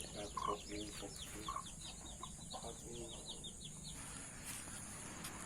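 Several chickens, including a mother hen with her sixteen chicks, cluck softly amid a busy outdoor evening backdrop with chirping small birds, the clucks coming in short, scattered bursts at moderate distance.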